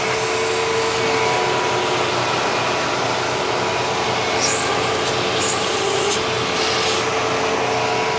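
A Hoover twin chamber vacuum cleaner runs steadily and loudly up close, a constant whooshing roar with slight shifts in pitch as it moves, no pauses throughout.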